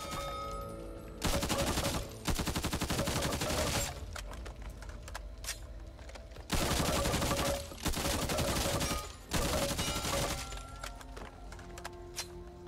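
An M4 assault rifle in the Back 4 Blood game fires in several long automatic bursts, rapid loud cracks separated by short pauses, with clinking shells and mechanical handling sounds between bursts.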